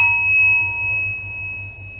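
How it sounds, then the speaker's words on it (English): Single struck singing bowl ringing with a clear sustained tone and overtones, a soft pulsing shimmer throughout as it slowly decays, close and alone. "We're going to start this practice off just with a little chime. This is my singing bowl"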